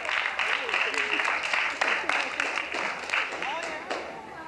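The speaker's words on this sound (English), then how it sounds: "Nice round of applause there for Brian and Julie." A game show audience on a New Year's Caribbean cruise applauds contestants, steady clapping under a host's voice throughout, with a few louder claps standing out.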